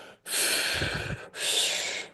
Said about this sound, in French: Je peux respirer lentement, à 6 cycles par minute, comme avec une profondeur importante